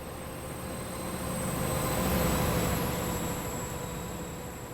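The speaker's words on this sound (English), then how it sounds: "I think this train's got the old Valenta sound pack from AP on this one" A train in Train Simulator with the old Valenta engine sound pack, a steady low rumble and hiss that swells gently in the middle and stays close and continuous throughout.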